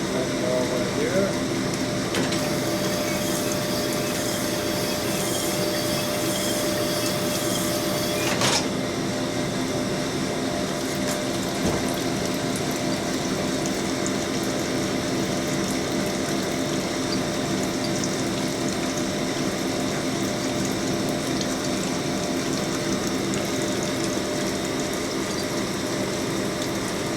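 A cylinder hone works inside a Harley Evolution engine cylinder, giving a continuous, fairly loud whirring grind with a wet, pump-like churn. It runs steadily for almost half a minute, and a voice can be picked out beneath it at times.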